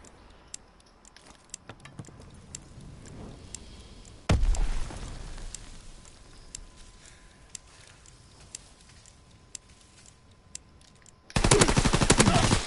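Video game gunfire in a competitive match, with scattered sharp shots, a dense burst of automatic fire near the middle and another loud burst at the end.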